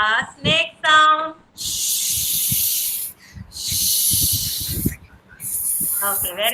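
Children's voices imitating a snake, with long drawn-out hissing bursts in a kindergarten class session, separated by brief spoken words from the group and a teacher.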